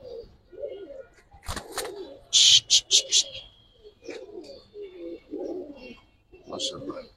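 Kaldom pigeons coo in soft, repeated low phrases through the clip, with a brief cluster of louder sharp calls in the middle and a faint chirp near the end, fairly close by.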